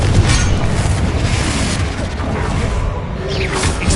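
A Confringo fire spell blasts in the video game Hogwarts Legacy, a loud, dense roaring boom that fills the whole moment and slowly thins toward the end.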